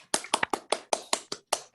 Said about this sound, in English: So we can unmute for a round of applause.